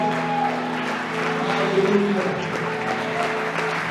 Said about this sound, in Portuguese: palmas para Ele, palmas para Jesus